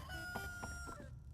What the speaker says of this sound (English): if you haven't heard the roosters crow